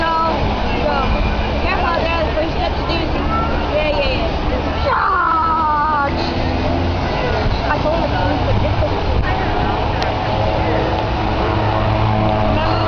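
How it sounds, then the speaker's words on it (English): A 240-horsepower, 360-cubic-inch Lycoming air-cooled engine drives an aerobatic airshow plane. It sounds as a steady engine drone mixed with crowd babble and loud announcer speech, continuous and fairly loud for the whole stretch. "Jason makes all 240 horsepower, 360 cubic inches of Lycoming force on an air-cooled engine work for him"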